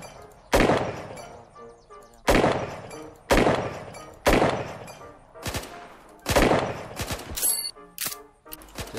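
Gunfire in the video game Unturned during World War II roleplay PvP combat: about six sharp, loud shots spaced a second or two apart, each with a ringing decay, ending in a quicker burst with faint voices underneath.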